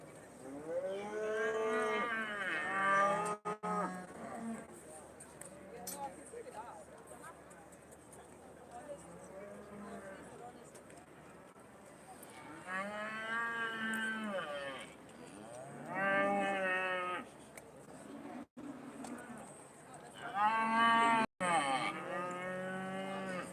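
Aberdeen-Angus heifers, just over a year old, moo repeatedly in a show ring at the Royal Highland Show, long drawn-out calls recurring in bursts over a steady crowd murmur.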